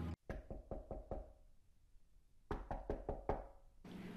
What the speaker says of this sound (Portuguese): estava quase dormindo quando ouviu batidas em sua porta